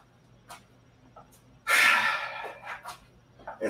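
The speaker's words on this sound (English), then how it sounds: "And probably breathing heavy." A person breathing hard after a workout, with a few faint breaths and then one loud, forceful exhale followed by several shorter panting breaths, close to the mic.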